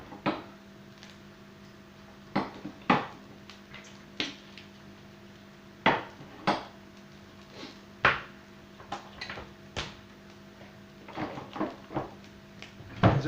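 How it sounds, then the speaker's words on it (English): Small spice jars of cumin seeds and turmeric being set back into a kitchen cupboard, a series of sharp clinks and knocks at irregular intervals, close and fairly quiet over a low background hum. "I'm just going to stick my cumin seeds and my turmeric back in the old cupboard"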